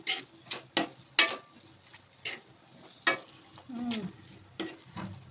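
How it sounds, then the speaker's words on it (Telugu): Coriander powder and garam masala fry in oil for dal makhani, a quiet sizzle broken by sharp spoon taps and clinks against the pan, spaced irregularly, with a brief murmur of voice. "ధనియాల పొడి ఇంకా గరం మసాలా కూడా వేసేస్తున్నానండి ఇది కొంచెం ఆయిల్లో ఫ్రై అయిన తర్వాత"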